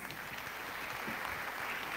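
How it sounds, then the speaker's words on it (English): Audience applause for a guest speaker at a high school moving-up ceremony, a steady continuous wash of many hands clapping at moderate volume, heard without talk. "let us give him a big, warm round of applause"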